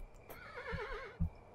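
A frightened horse in the video game Kingdom lets out a wavering, quavering whinny that rises and wobbles for about a second, fairly quiet, with a couple of dull low thumps around it.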